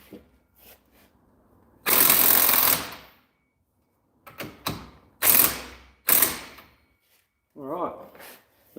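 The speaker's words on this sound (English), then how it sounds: "Rattle me gun. There it is." An impact wrench (rattle gun) works the wheel nuts on an Astra convertible, up close and loud: one long rattling burst, then several shorter bursts in quick succession. A brief voice follows at the end.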